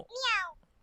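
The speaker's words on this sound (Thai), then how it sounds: "อันนี้เป็นเสียงของตุ๊กตาแมวนะ" A single short, bright meow from a toy cat doll when its belly is pressed, rising then falling in pitch, close and clear against a quiet background.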